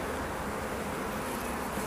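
Honey bees from an opened hive make a dense, continuous buzz at close range, a steady drone filling the short stretch without voices.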